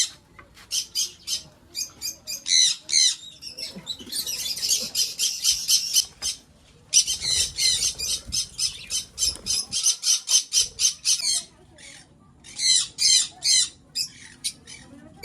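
Cockatoos and other birds in a home aviary squawk in harsh, rapid bursts close by. The calls come in clusters separated by brief quiet gaps.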